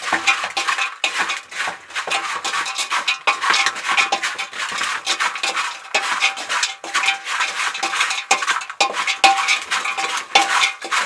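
A metal spoon stirs a spice mixture into hot sugared peanuts in a pan, making continuous close scraping and clinking against the pan, loud and rhythmic throughout.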